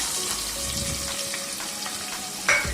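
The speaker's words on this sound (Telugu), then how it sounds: "అలాగే 2 సన్నగా తరిగిన ఆనియన్స్ను వేస్తున్నానండి" Finely chopped onions fry in oil for a traditional dal, giving a steady, moderately quiet sizzle with a brief louder clatter near the end.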